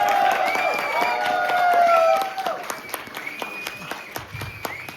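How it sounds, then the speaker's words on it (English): An audience cheers and applauds for a graduate, whoops and shouts over dense clapping that thins to scattered claps. "cheer loud, make some noise for the graduate"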